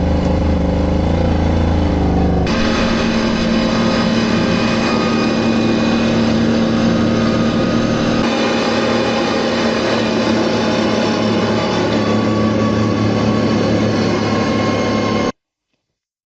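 A car engine hums steadily from inside the cabin while driving, a continuous low drone with no talk.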